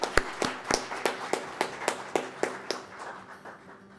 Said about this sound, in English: let us give you a round of applause for being winners